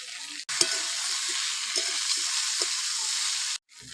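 Previously fried cauliflower cooks with spices including Kashmiri chili powder and salt in a pan, giving a loud, steady sizzle that starts abruptly, with light stirring scrapes throughout, then cuts off.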